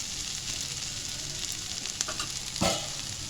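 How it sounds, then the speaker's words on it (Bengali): Chopped bitter gourd (korola) fries in a pan over a medium flame with a soft, steady sizzle, and a sharper clatter of stirring comes near the end; no one speaks. "একটু ভাজা ভাজা হোক"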